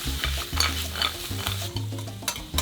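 Mussels frying with onion and garlic in hot oil, a loud close sizzle broken by repeated scraping strokes of a stirring utensil against the pan, no voices.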